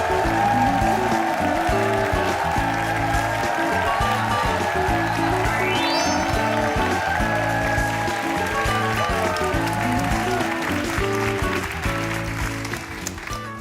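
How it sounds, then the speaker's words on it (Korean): A studio talk-show audience welcomes a guest, the head of the indie label Boongga Boongga Records, with applause and cheering, set under loud rhythmic stage music that runs throughout. "큰 박수로 맞이해 주십시오."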